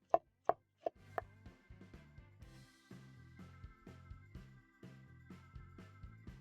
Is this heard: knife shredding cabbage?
yes